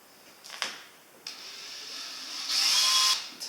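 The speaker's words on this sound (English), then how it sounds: "I'm going to drill a little pilot hole" A small pilot hole being drilled while building a camper van bench seat, a faint whirring drill with a short burst, then a louder sustained high whine before it stops.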